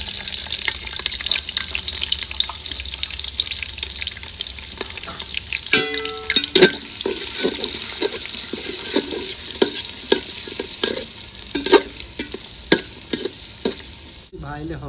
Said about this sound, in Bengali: তখন পেঁয়াজ দেবো, পেঁয়াজ দিয়ে দেবো।